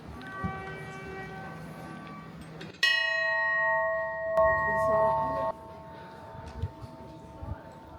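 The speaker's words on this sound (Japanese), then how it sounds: "このサイズの鐘だとこんな音すんだね。" A large bell is struck, and its long ringing tone with rich overtones swells and then decays. A second strike follows shortly after, while quiet voices murmur around it.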